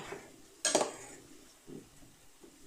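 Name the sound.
stirring chicken adobo with liver in a pot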